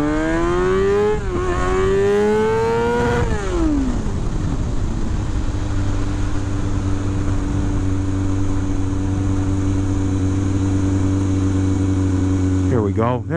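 A motorcycle engine climbs through third gear in rising revving sweeps during stoppie stunt training, then settles into a loud steady drone that fills the whole stretch.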